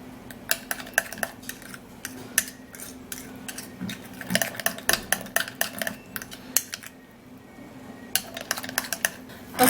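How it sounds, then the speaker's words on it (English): A spoon stirring a powder-and-lemon facial hair removal paste in a small bowl, producing rapid, irregular clicks and scrapes against the bowl at close range, with a short pause midway and no speech. "And then you stir up really good"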